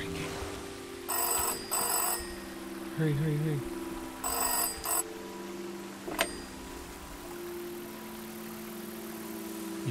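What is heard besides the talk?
phone booth telephone ringing in video game SEASON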